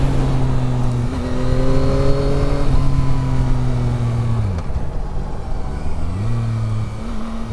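A Yamaha MT-09 SP motorcycle engine revs hard during a wheelie, its loud steady drone rising and falling in pitch as the electronic wheelie control cuts in, up close with a brief spoken word.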